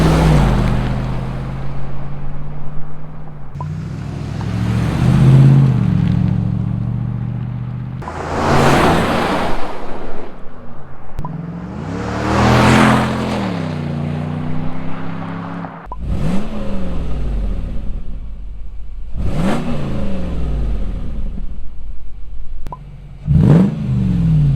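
A Lexus GX470/GX460 SUV with a MagnaFlow exhaust revs repeatedly, loud and close: several rising and falling throttle blips separated by idling, with a deep, rumbling exhaust note.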